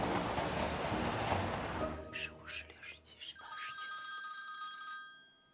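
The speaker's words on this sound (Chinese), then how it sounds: "电话。" An old-style telephone bell rings in several quick bursts at home, preceded by a wash of surf-like noise and a voice, ringing fairly close.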